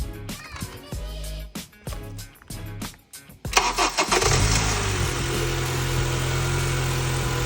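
A 9th-generation Honda Civic Si with a newly fitted K&N intake is cranked several times with rhythmic starter whirring, then catches and settles into a loud, steady idle close by.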